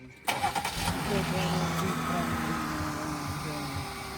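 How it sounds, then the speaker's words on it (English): A car engine cranks and catches with a quick stuttering burst, then settles into a steady idle hum for the rest of the clip, close by, with a voice speaking over it. "I'm starting my car to do it."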